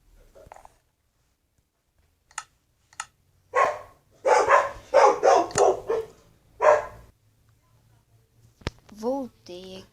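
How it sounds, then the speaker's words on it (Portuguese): Dogs bark in a burst of several loud, close barks and yelps, preceded by a few sharp isolated sounds and followed by brief quieter noises. "Os cachorros começaram a latir aqui."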